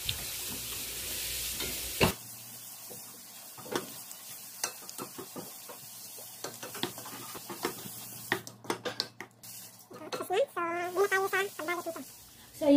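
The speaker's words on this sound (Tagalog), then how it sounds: "lalagay na natin yung ating tinadtad na dahon, parsley, at haluin" Chopped parsley is stirred into a cooling sambusa meat filling in a pan, with a spoon scraping and clinking against the pan amid soft sizzling, while someone talks over it.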